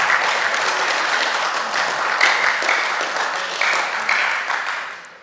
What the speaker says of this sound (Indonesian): Pimpinan tepuk tangan dulu dong.